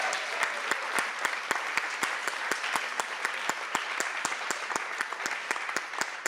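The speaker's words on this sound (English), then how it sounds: "Let's give them a round of applause." An audience applauds panel speakers at a women's grassroots leaders event, a steady wash of clapping with many sharp individual claps, moderately loud and continuous throughout.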